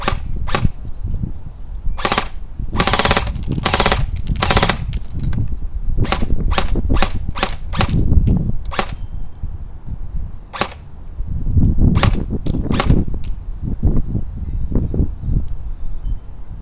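Airsoft gun with poor compression fires a long series of sharp, close shots, some single and some in quick bursts of two or three, with short gaps between.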